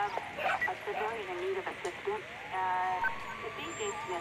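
Dog barking in the video game Grand Theft Auto V, a few sharp barks and yips mixed with voices and game sounds, close and fairly loud.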